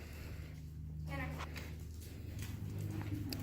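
Hoofbeats of a horse picking up the canter sound as soft, rhythmic thuds in an arena, moderately distant, under a woman's spoken instructions.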